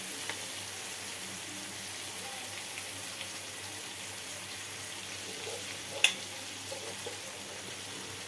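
Malvani-style chicken and liver with leftover chutney frying on a hot tava, giving a steady, low, continuous sizzle with one brief sharp clink partway through.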